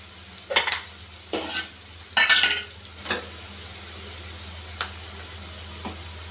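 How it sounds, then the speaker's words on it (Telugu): Okra and onions fry in a pan under a soft, steady sizzle, broken by a few sharp scrapes and knocks of a spatula against the metal, close by and without talk. "ఈ ఉల్లిపాయలు హాఫ్ ఫ్రై అయిన తర్వాత అప్పుడు బెండకాయ వేస్తాను"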